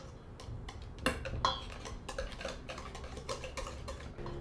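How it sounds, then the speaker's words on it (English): A whisk stirring all-purpose flour into brownie batter in a bowl, giving a run of quick clinking taps against the side, with a few louder knocks around the first and second seconds and no talking. "we're going to whisk in 1 cup, which is 150 grams of all-purpose flour"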